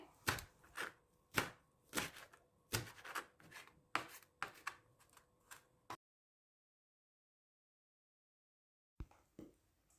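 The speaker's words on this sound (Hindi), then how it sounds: "हरा लहसुन, इसको भी हमने मोटा मोटा चॉप कर लेना है" A knife coarsely chops green garlic steadily on a board, a run of crisp thuds, then silence, then a few more chops resume near the end.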